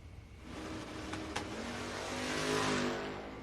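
Drag race cars roar down the strip at a Coastal Clash event, engines screaming loud and steady with a rising surge in the final second, a Chevy among them, with no talk over the noise.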